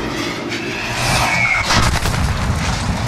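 A mortar explosion in the video game Call of Duty: Modern Warfare, a heavy boom that swells up and rumbles, with scattered crackling debris and battle noise after it.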